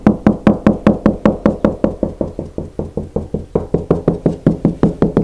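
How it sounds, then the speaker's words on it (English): Knuckles knocking along a plasterboard wall to locate studs, a steady rapid series of about thirty close, hollow thuds whose tone shifts slightly partway through. "Now I'm going to try and find the studs by knocking"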